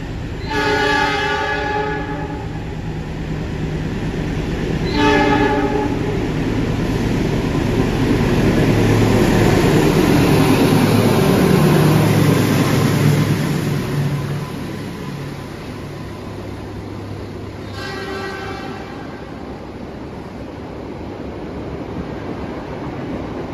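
Progo passenger train passing, horn blasting three times in long harmonic tones over a steady rumble of wheels and cars that swells loud through the middle and fades away.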